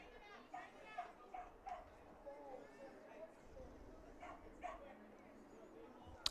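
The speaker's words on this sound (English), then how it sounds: "Somebody brought a dog." A dog barks and yips at a softball park during a game, several short barks spread across the moment, moderately distant, with crowd voices and children in the background.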